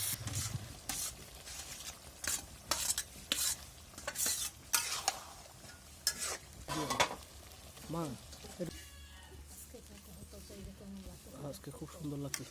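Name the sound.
stirring and sautéing chicken curry in a pan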